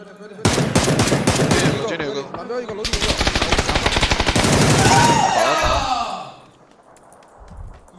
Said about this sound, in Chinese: 怎么有枪从我脸上开了？